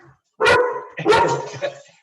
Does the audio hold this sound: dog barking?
yes